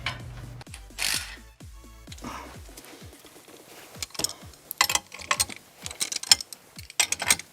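Ratchet wrench loosening the suspension strut top nuts on an AE86 Corolla, a run of quick mechanical clicks and ratcheting bursts close to the microphone, steady then in choppier spurts, with no talking.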